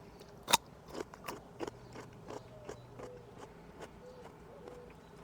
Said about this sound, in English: I'm gonna bite off the root part real quick.